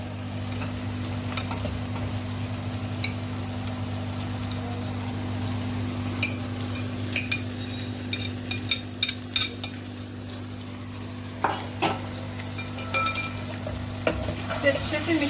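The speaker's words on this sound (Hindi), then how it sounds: "टोमेटो और अनियन पक चुके हैं और अब हम इसमें भिंडी ऐड कर देंगे।" Okra stirred into tomato and onion frying in a pan for stuffed bhindi, with scattered scraping clicks from the spoon over a steady low sizzle and hum.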